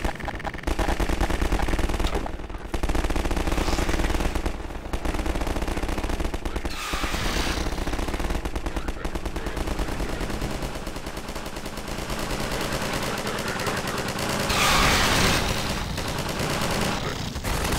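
Dense, loud automatic gunfire rattles almost without a break in a Half-Life 2 firefight, with short pauses between bursts and layered shots that fill the whole stretch.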